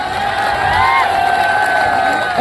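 A crowd at a UP Police RWA honour ceremony cheers and shouts, sustained and loud across the whole stretch, with excited voices rising over a steady wash of noise.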